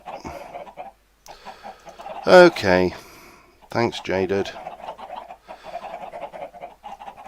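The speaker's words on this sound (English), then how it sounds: "Well, at least it gets me away from these chickens." Chickens clucking in the Minecraft modpack Agrarian Skies, several fowl giving short bursts of clucks close by, mixed with a person talking.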